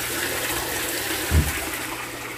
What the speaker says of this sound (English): There's our bucket filtration system, which cleans the water and helps aerate.